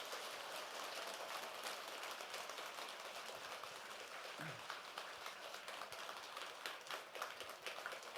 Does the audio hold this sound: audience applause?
yes